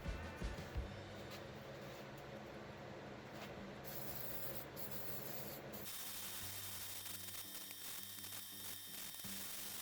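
A finish coat is brushed or sprayed onto a firewood tabletop, giving a steady rough hiss and rubbing noise that runs almost unbroken and fairly close, with a low steady hum underneath and no talk.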